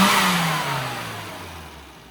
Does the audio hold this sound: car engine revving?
yes